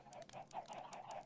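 Many chickens crowd together on a Minecraft server, making quick overlapping clucks in a steady, busy rhythm at fairly low volume, with no talking.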